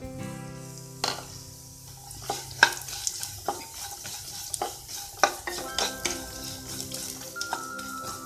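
Chopped carrot sizzles in a hot pan for upma, with a spoon stirring and scraping against the metal in irregular knocks and clinks over a soft, continuous frying hiss.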